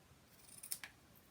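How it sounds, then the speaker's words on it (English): A single pair of quick scissor snips cuts through a thin strip of flax ribbon, two crisp, close clicks close together, with quiet room tone around them. "I'm going to use some of this flax ribbon, which I've used for everything. And I'm going to cut myself a little strip."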